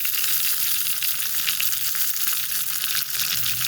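Chili, curry leaves and vitamin leaves sizzling in hot oil for a tempering, a loud, continuous hiss with fine crackles close by, steady for the whole stretch without voices.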